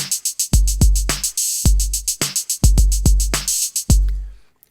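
A drum track from Addictive Drums software plays alone and loud: punchy kick and snare hits in a steady groove with bright, dense cymbal or hi-hat wash on top, ending in a brief pause.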